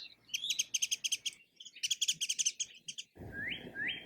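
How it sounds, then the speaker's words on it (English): Rapid high-pitched bird twittering comes in quick bursts of chirps, followed by a couple of rising whistled calls over faint background noise. "Their call is a high-pitched twitter."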